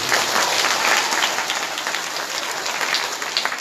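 An audience at a Srimad Bhagwat saptah religious gathering in Assam breaks into sustained, dense applause, many hands clapping together in a loud, even wash for several seconds.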